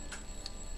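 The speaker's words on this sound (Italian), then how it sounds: "Una sveglia gigante!" Giant alarm clock in the LEGO Star Wars video game, two brief bright tick-like clicks over a low steady background hum.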